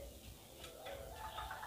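A perkutut, or zebra dove, gives a soft cooing call, faint and close, against a light background hiss, with no voices.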